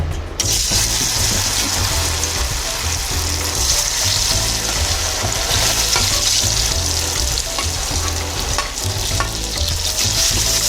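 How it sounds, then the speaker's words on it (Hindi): Besan gatte, small chickpea-flour dumplings, frying in hot oil, with a steady loud sizzle and crackle plus occasional stirring throughout, no voices. "तेल हमारा गर्म हो चुका है, अब हम इसमें गट्टे डाल देंगे।"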